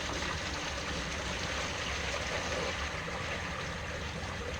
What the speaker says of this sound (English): 5-gallon bucket of Kern River water coming down the Soretta Street